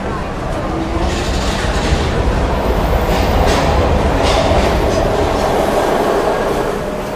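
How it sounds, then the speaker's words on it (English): A train in the video game Heavy Rain gives a steady, loud rolling rumble with hissing bursts and a clattering rhythm, swelling slightly in the middle and holding close throughout. "We've got to get on that train, Ethan."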